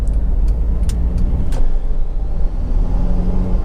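A Honda CR-V 2.2 i-CDTi diesel engine runs steadily with a low, even rumble, heard up close and alone, with a few faint clicks on top.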